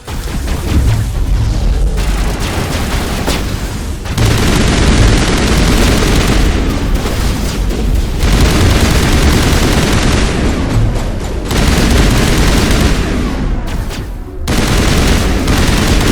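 Sustained heavy gunfire in a Mass Effect battle against Geth, loud and dense, with rapid bursts and booming shots running nearly nonstop and brief lulls between volleys.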